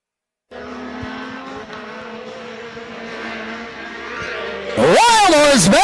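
Off-road race trucks roar around a dirt circuit at a ski-jump section, with a sustained engine drone, then a louder, nearer burst of wailing, rising and falling revs near the end.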